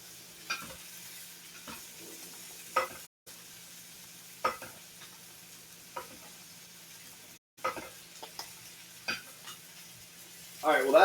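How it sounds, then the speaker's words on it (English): Butter sizzles softly in a pan during basting, with a quiet steady fry broken by repeated spoon scrapes and clinks against the pan, rising to a louder sizzle at the end. "And we start basting."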